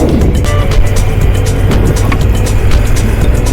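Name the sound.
escort vehicle driving off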